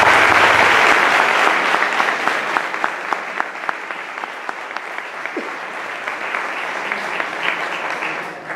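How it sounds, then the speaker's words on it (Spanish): Audience applause at a Spanish talk on cybersecurity training, many hands clapping in a dense, loud wash that thins a little and carries on steadily for several seconds. "aquí vamos a dar un aplauso"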